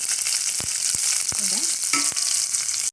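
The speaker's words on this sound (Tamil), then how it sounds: "வெங்காயம் நல்லா பொரிஞ்சிருச்சுங்க" Onions frying in a pan with garlic for a Tamil cabbage sodhi, a steady close sizzle and hiss broken by a few sharp clicks of a spatula against the pan.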